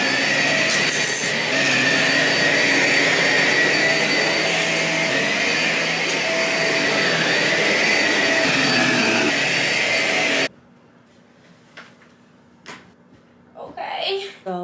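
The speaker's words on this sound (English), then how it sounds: "I have to vacuum." A vacuum cleaner runs loud and steady on a rug in a room for about ten seconds, a dense whirring drone that cuts off abruptly, followed by quiet room sounds and brief talk.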